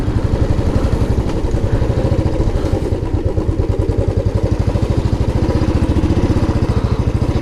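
A motorcycle engine running close by just before parking, a loud, steady rapid chugging putter with a slight clatter that holds an even pace throughout.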